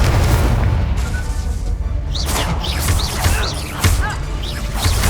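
Incendio fire spell cast in Hogwarts Legacy, heard as loud, repeated fiery bursts and whooshing blasts packed densely over a continuous rumbling game soundscape.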